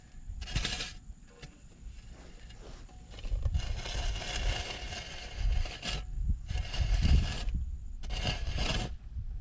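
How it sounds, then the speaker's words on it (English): Loose garden dirt is raked back into a bed beside fresh shovel-cut lawn edging, heard as rough scraping drags close by, some short and some long and sustained, broken by brief quiet gaps. "Then I'll simply rake back my extra dirt, kind of pull it back in the bed and just fan it out"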